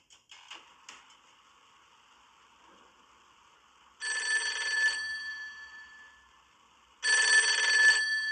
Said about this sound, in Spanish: Un teléfono resuena en la oficina presidencial.